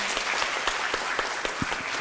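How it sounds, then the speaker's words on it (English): A conference audience gives a round of applause for a student presenter, a steady patter of claps at moderate level lasting the whole stretch, with a few sharper individual claps standing out. "give a round of applause, one more for Andrew"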